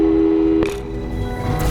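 A phone busy signal in the video game Portal 2 sounds as a steady electronic tone that cuts off with a click, followed by quieter line noise.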